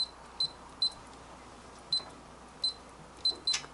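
A safe's electronic combination keypad gives a series of sharp, close beeps, about eight short tones in an irregular rhythm, alone in a quiet room.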